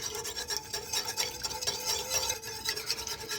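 Coconut milk, egg yolks, maple syrup and salt being whisked together in a bowl for a dairy-free custard, a quick rhythmic scraping and stirring that keeps up throughout, close and fairly loud.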